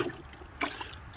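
Water sloshes and splashes faintly inside a laundry bucket worked with a plunger washer, with a soft trickle and one brief, sharper splash midway.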